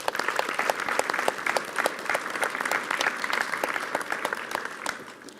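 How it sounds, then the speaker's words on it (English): Audience gives a round of applause at a school Year 12 prize giving, a moderate, continuous patter of many hands clapping in a hall, with no talking. "Can we please pause to give our Board of Trustees a round of applause as a token of thanks for their support."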